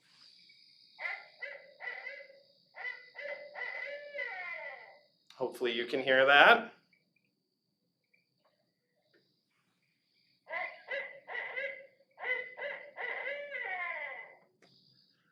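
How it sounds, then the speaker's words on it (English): Barred owl calls, as heard in Minnesota, come as loud, repeated hooting and caterwauling phrases in two bouts separated by a pause, with a brief voice speaking between them. "It is B, the barred owl."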